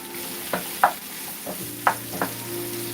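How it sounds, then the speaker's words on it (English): Mushroom, carrot and sweet peppers sautéing in a pan, with a soft steady sizzle broken by a few distinct stirring scrapes and clatters, close and alone with no talk. "And now we're sauteing our vegetables, like our mushroom, our carrot."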